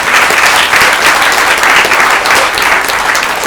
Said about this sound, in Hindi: तो एक बार जोरदार ताली से स्वागत।